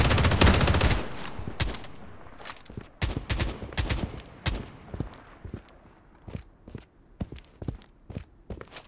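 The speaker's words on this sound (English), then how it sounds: "Taking fire!" Gunfire in the shooter game BloodStrike: rapid bursts of shots, loud at first and then scattered single and clustered reports at varying distances, with footstep-like thuds between.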